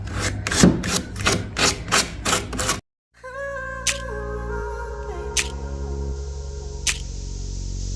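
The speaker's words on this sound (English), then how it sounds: "I'm also going to give these pulls a sand." Painted furniture drawer pulls are sanded by hand in a quick run of about eight rhythmic rasping strokes, close and fairly loud. A brief silence and quieter scattered sounds follow.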